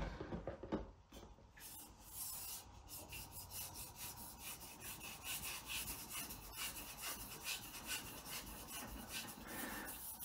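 A cheap red-handled Awagami kitchen knife is honed on a Japanese natural whetstone, producing a continuous close, gritty rasping scrape with a steady back-and-forth rhythm and no speech.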